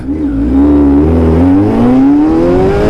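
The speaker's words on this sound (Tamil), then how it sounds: "எக்ஸாஸ்ட் நோட் செம்ம க்யூட்டாக சூப்பராக ஒரு மெலடியாக இருக்கு." A powerful superbike engine revs up loudly and smoothly, its exhaust note climbing steadily in pitch as it accelerates close by.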